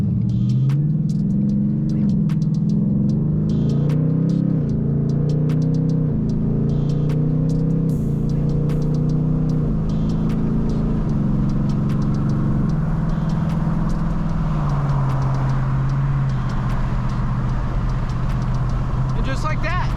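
A Saleen Mustang engine drones low and loud as it accelerates through a run of gear changes, each shift pulling the pitch down before it climbs again; a person talks over it throughout.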